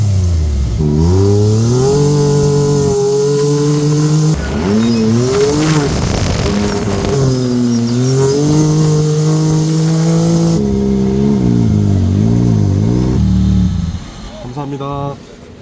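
A Can-Am roadster engine being ridden revs up and down repeatedly through shifts, loud and close, with people talking over parts of it.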